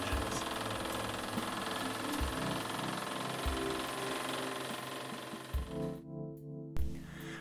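A homemade Stirling engine runs in an off-grid biogas setup, giving a faint, steady mechanical hum with regular knocking thumps about once a second, then brief near-silent gaps toward the end.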